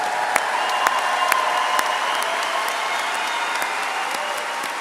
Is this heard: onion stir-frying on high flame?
no